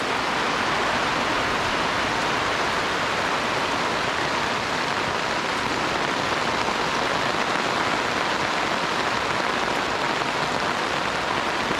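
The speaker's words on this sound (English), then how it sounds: "That'll tell us how much rain we get in this little shower." Steady rain shower pattering densely on surfaces around a Casita RV on a hot day, a constant even hiss with no voices.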